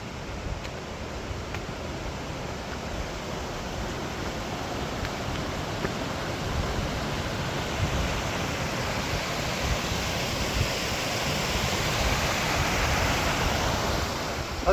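A small mountain creek in Paintbrush Canyon, Grand Teton National Park, rushes steadily nearby, a dense, even wash of flowing water that holds constant throughout with no voices.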